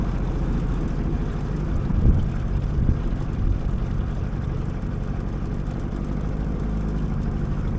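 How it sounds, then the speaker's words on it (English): An outboard motor on a small aluminium tinny drones steadily and loudly throughout a run across flat calm water off Fraser Island, a constant low engine hum blended with wind buffeting the microphone. "Outboard's performing perfect."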